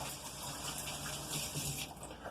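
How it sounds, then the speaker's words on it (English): Water gushes steadily from a kitchen tap as hands are washed free of olive oil during pizza making, a continuous close splashing rush with small fluctuations throughout. "now I'm going to wash my hands and put the toppings on"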